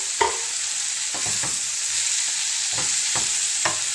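Tofu cubes, onion, cabbage and carrot are stirred in a hot pan, with a spatula scraping and tapping in a loose rhythm of distinct strokes over a steady sizzle of frying.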